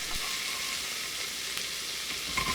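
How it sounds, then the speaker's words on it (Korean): Minced garlic stir-frying in cooking oil and perilla oil over medium-low heat, a dense, close, continuous sizzle with a couple of faint stirring taps and no voices. "식용유 1스푼, 들기름 1스푼, 다진 마늘 반 스푼 넣어 중약불로 10초 볶아주세요."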